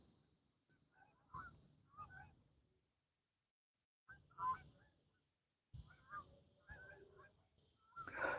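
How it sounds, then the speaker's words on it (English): Waterfowl honk in bursts as they fly past a lake at White Rock in Dallas, a handful of distant, separated calls with silent gaps between them. "some ducks are flying by, guys."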